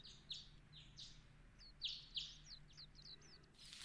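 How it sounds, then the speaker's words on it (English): Morning birdsong in the video game Trails in the Sky: several bright, quick chirps and tweets repeat irregularly across the clip, fairly faint over a low steady background hum, with no talking. "Nice early mornings, the birds waking up,"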